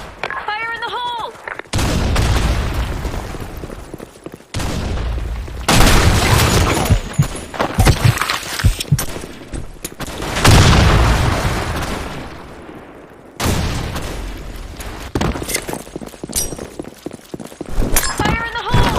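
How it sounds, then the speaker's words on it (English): Repeated grenade blasts in a Sand Storm multiplayer shooter match, several loud booms with gunfire bursts between them and shouted callouts over the action. "Grenade! Fire in the hole!"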